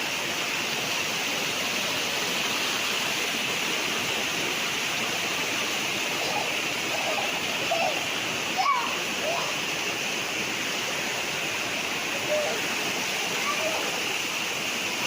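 Steady broadband rush of natural spring water flowing on a farm lot in Lucban, Quezon, constant and fairly close, with a faint splash midway and no voices.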